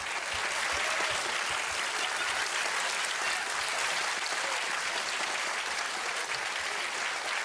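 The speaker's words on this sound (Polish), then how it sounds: "Przywitajmy ich brawami" Sustained, dense applause from a studio audience greeting cabaret guests, even and continuous clapping throughout with no voices rising above it.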